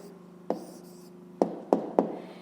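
Pen writing an answer by hand on paper for a fifth-grade math exercise: a few sharp, distinct strokes or taps spaced irregularly over a steady low hum, close and fairly quiet.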